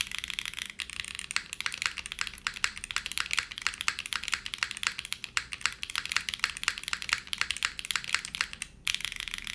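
A TB8 TKL mechanical keyboard being typed on, a fast, continuous clatter of close keystrokes with a few louder presses, steady throughout with no voices.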